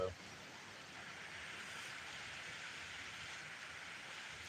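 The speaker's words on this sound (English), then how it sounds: "Can y'all hear the rain? It's not heavy." Light rain falls steadily outdoors at a Wyoming camp, a soft continuous hiss of drops on surfaces, even and unbroken after a brief knock at the start.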